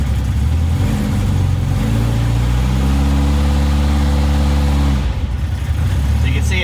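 A supercharged Austin-Healey Sprite with a Shorrock blower idles steadily at close range, a low, even mechanical drone that dips briefly near the end.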